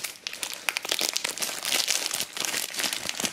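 Extra plastic wrapping being torn off a spool of copper-coated steel MIG welding wire, with close, continuous crinkling and crackling throughout and no talking.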